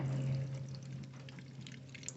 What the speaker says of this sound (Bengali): কড়াইতে সর্ষের তেল